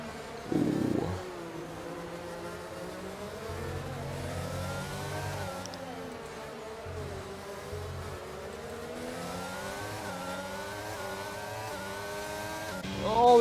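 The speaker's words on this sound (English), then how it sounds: "Watch out, this car's coming." A Formula 1 race car in the F1 22 video game drives past during a Mexico race, its engine whine rising and falling in pitch as it accelerates, moderately loud and continuous, with a short thump at the start.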